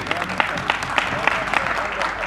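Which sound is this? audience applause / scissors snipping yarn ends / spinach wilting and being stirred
audience applause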